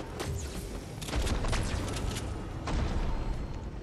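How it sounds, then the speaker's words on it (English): Video game gunfire in a multiplayer shooter, dense overlapping bursts and booms rolling continuously for several seconds, loud and close, with a couple of heavier swells in volume and no talk over it. "They're trying to shoot me down."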